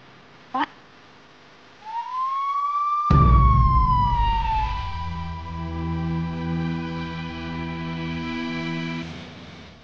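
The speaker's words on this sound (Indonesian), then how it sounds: "Oh, udah ada ambulans" An ambulance siren wails loudly and nearby, rising and falling in a long sweep before settling into a steady sustained tone, with a short sharp knock heard just before it begins.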